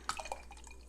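Bourbon barrel aged imperial stout beer at 13.7% ABV trickles into a glass in a brief, quiet burst of liquid drips and splashes, close and faint, fading quickly.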